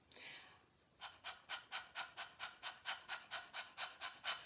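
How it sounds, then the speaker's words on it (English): Rhythmic, quick panting breaths from a singers' breathing exercise, about a dozen short sharp exhales in a steady beat after a brief softer breath, close and clear with no talking. "the panting."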